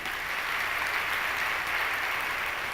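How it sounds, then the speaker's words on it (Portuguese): Church congregation at a healing Mass applauding, a dense, even roar of many hands clapping at steady volume with no talk over it. "Pode aplaudir o rei."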